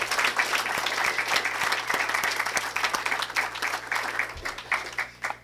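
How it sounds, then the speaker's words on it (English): Sustained audience applause at a school district board meeting honoring two STEM teachers, dense steady clapping throughout, fairly loud and close, briefly dipping near the end. "Big round of applause to both of the teachers."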